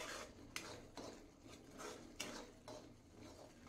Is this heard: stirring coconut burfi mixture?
yes